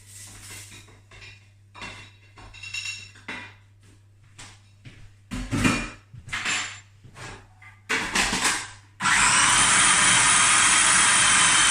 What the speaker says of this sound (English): So let's just get blending all the ingredients.